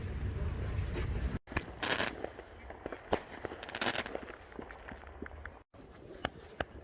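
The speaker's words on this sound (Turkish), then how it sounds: "gecenin bir yarısı e, havai fişekleri izlemeye geldik" New Year's fireworks over a frozen lake in Helsinki sound as scattered pops and crackles of varying loudness over a constant outdoor rumble and crowd noise, with some bangs near and others farther off.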